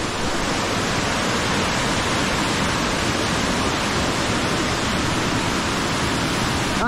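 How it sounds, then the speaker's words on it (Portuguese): Waterfall at Cachoeira de Amélia Rodrigues in Bahia, a loud, steady, broadband roar of falling water that fills the whole stretch without a break or any voices. "Cachoeira de Amélia Rodrigues."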